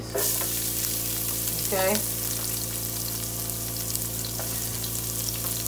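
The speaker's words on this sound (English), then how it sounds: "now I'm going in with my onions" Onions sizzle steadily in a hot pan, a constant close frying hiss with a few stirring scrapes, and a voice briefly speaks over it.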